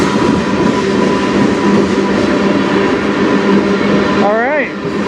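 CN freight train rolling past on the Strathroy Subdivision near Sarnia, a loud continuous rumble and clatter of cars close by, ending with a brief wheel squeal.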